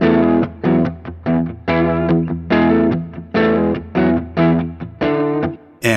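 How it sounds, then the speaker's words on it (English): Electric guitar riff played through a clean stock Logic amp simulator with no distortion, a series of punchy chords and short stabs with brief gaps between them, close and loud with no talking. "Now I have a clean stock Logic amp simulator running."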